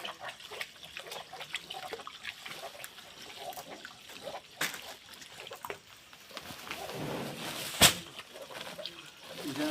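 Pump water from a home submersible pump runs and splashes while something is washed, a steady trickling flow with intermittent splashes and one sharp clatter, and faint voices in the background.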